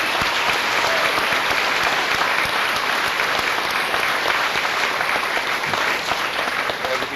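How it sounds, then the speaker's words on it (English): A school senior assembly audience claps in sustained applause, a dense, even roar of many hands filling a large hall, with no break in it. "Let's give these students a round of applause."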